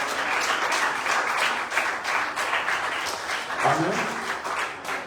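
A church congregation applauds during a worship service, sustained dense clapping close by and fairly loud, with a voice speaking over it.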